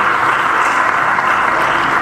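A conference audience applauds panelists after a panel session, giving a steady, dense clapping wash that holds at an even loudness with no distinct individual claps standing out.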